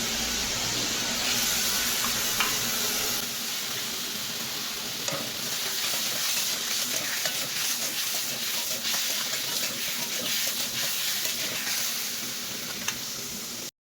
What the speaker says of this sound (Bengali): এবার কিন্তু ভিজে রাখা আলুগুলো দিয়ে দেবো।